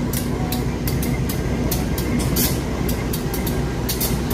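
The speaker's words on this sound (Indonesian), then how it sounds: "Karena ada langsiran lokomotif kereta api Logawa ya." A rumbling train moves steadily along the tracks with repeated clanking and clicking of rail cars, continuous and fairly close, as a locomotive shunts the cars in Indonesia.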